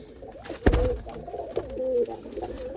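Several home-bred pigeons coo in repeated low, rolling phrases close by, one sharp knock near the start, with no talking over them.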